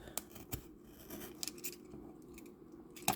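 Scissors snip through packing tape on a parcel in a few sharp separate cuts with crinkly tape handling between them, close and fairly quiet.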